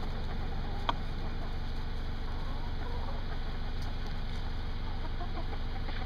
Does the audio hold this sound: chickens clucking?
yes